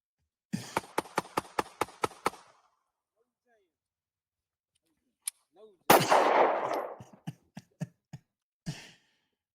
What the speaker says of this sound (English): These guys shot some guns with no hearing protection.